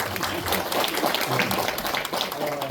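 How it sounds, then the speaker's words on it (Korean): Audience applause for a council chair at a residents' briefing for an apartment complex in Guri, a dense, steady wash of clapping filling the room under faint voices. "다시 한번 우리 신동아 의장님에게 박수, 뜨거운 박수 한번 주세요."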